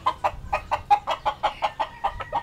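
Chicken clucking in a quick, steady series of about a dozen short clucks, close and clear, with no talk.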